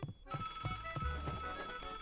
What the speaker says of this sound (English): Where is the phone ringing?